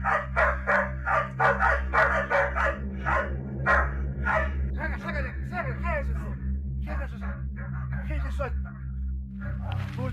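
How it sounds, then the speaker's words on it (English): Several dogs barking frantically outdoors, a rapid burst of loud, overlapping barks and yips over a steady low hum, with shouting voices mixed in toward the end. "after hearing frantic barking and shouting"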